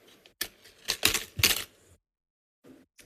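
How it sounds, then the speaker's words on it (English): A die cutting machine cutting paper shapes gives a short series of loud mechanical clacks and crunches, then falls quiet before a few faint, softer clicks. "So I'm going to die cut these out now."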